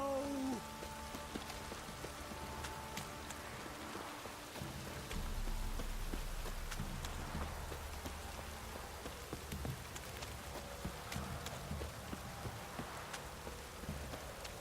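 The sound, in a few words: rain in a video game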